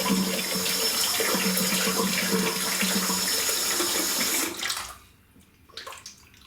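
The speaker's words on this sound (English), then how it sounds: "I'll get some water in the sink." Tap water pours steadily into a bathroom sink during a wet shave with a Razorock Mamba razor, a loud continuous splashing rush that stops abruptly near the end, leaving quiet drips and faint movement.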